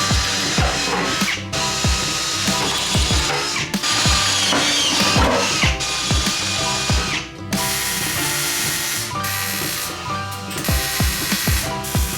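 Loud, continuous power-drill grinding with repeated ratcheting pulses and brief dips as the bit drills paint out of holes down to bare metal on a racecar, no voices.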